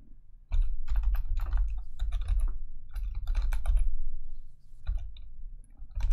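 Rapid clicking of computer keyboard keys in bursts of fast typing with short pauses, close and fairly quiet, no talking.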